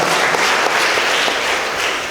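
Applause from a crowd at a church children's patronage gathering in Rwanda, dense and continuous clapping at close range for the whole stretch, steady in loudness.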